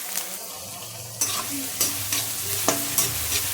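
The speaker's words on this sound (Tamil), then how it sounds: "இது வெங்காயம் நல்லா வதங்கியாச்சு." Onions sautéing in a pan for a potato dish, with a steady frying hiss and several distinct scraping stirs of a spoon against the pan, close and fairly loud, no talking.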